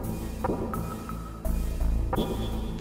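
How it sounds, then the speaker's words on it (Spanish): Knocks on a wall inside Metal Gear Solid on PS1: a few dull, close taps spaced apart over steady game ambience and beeps, with no voices. "Con suena así la pared, ¿no?"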